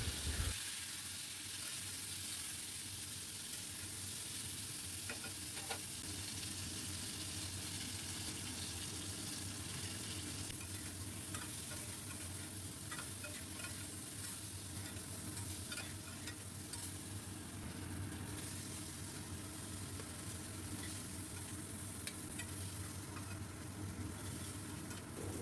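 Cut brinjal pieces with salt and turmeric frying gently in leftover oil after the potatoes, a low continuous sizzle with occasional stirring, faint and even throughout.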